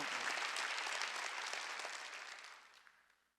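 A congregation at a Wednesday church worship service bursts into loud, full applause that holds steady and then gradually fades away.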